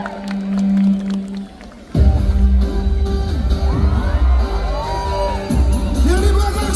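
Concert crowd at a show in Makassar, a loud sustained roar of cheering and whoops that swells suddenly after a quieter stretch and carries on, with a faint voice over it.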